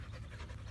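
Huskies in a pack pant steadily at a dog park, a continuous rapid breathy rhythm heard close and quiet with no talk over it.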